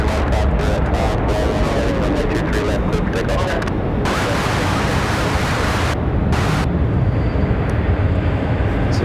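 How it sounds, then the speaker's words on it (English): A Boeing 777 undergoing engine tests at the end of an airport runway, producing a loud, steady broadband roar that fills the whole stretch without letting up. "As they continue those tests on that 777 at the end of the runway."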